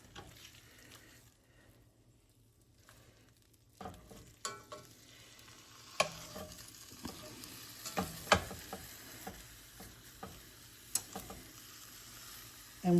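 Pork tenderloin sizzling in a hot skillet as it is turned over, faint steady frying with a few sharp clattering knocks and scrapes of the pan and utensil, no talking.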